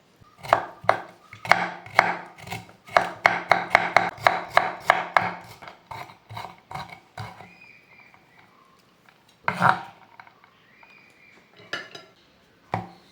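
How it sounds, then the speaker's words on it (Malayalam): A small carrot being finely chopped with a knife on a board, a rapid run of crisp, evenly spaced cuts that slows and stops, followed by a few isolated knocks. "ഒരു ചെറിയ ക്യാരറ്റ് എടുത്തിട്ടുണ്ട് അതും ഇതേപോലെ നൈസാക്കിയിട്ട് അരിഞ്ഞെടുക്കാം"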